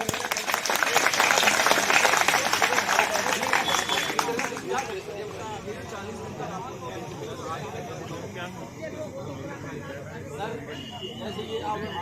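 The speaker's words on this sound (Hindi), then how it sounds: "तालियों से स्वागत कीजिएगा।" Crowd at a sit-in protest by former bus marshals in Delhi applauding loudly for about four seconds, then the clapping fades into a steady murmur of crowd noise and babble.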